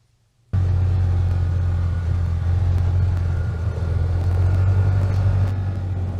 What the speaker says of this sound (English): we heard what sounded like a vehicle on Silver